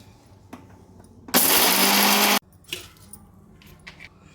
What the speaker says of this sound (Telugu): ఇట్లా మిక్సీ పట్టుకోండి ఉసిరికాయ ముక్కలు పచ్చిమిరపకాయలు వేసి